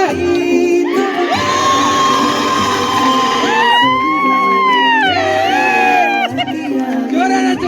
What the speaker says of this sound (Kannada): ಜೋರಾದ ಚಪ್ಪಾಳೆ ಎಲ್ಲರೂ ಎಂಕರೇಜ್ ಮಾಡಿ